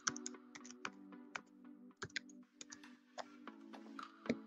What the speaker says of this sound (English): So I'm going to type in a different one quickly.